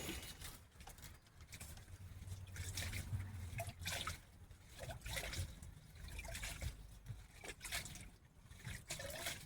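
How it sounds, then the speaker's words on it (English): Water rinsing dirt off a dug-up elephant ear bulb in a garden, a faint irregular splashing trickle with repeated gushes, close and quiet with no talk. "Let me rinse this out so I can see things better."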